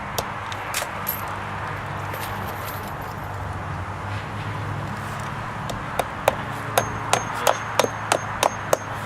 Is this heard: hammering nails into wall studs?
yes